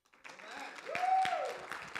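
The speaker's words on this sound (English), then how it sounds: "One more round of applause for this young man, please." A church congregation claps at a Sunday service, the applause building from a few scattered hands into a moderate round, with a whistle or high voice rising over it.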